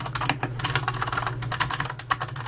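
Fast typing on a QPad MK-50 mechanical keyboard with Cherry MX Red switches, a dense, steady stream of close, crisp key clicks and clacks with no talking.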